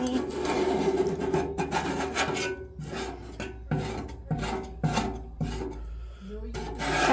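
Scraper and steel wool worked across a surface, giving rapid gritty scraping strokes in an uneven rhythm, close and steady, with faint talk beneath.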